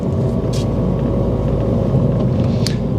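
A fully rebuilt Mini Cooper S drives a UK country road stuck behind a tractor, its engine a loud, close, steady rumble throughout with no talking.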